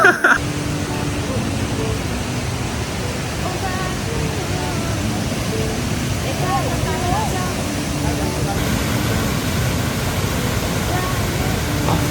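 A hidden waterfall in the Malaysian jungle near Pos Dakoh, Kelantan, pours out a steady, dense rushing roar that fills the whole scene without a break, close and loud throughout.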